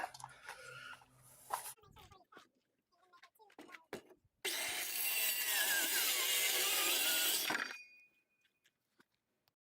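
A power saw cuts through plywood for an automatic chicken door in one loud, sustained burst of about three seconds, preceded by a few light knocks and handling clatter.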